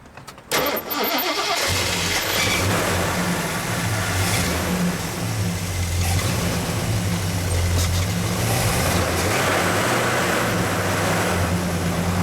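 A 1970 AMC Rebel V8 engine cranks briefly and catches, then settles into a loud, steady, rumbling idle that continues throughout.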